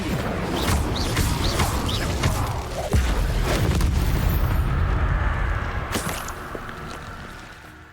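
Explosive spell blasts from the Hogwarts Legacy video game, a continuous roar of booming impacts and crackling bursts with sharp transients over several seconds before fading away.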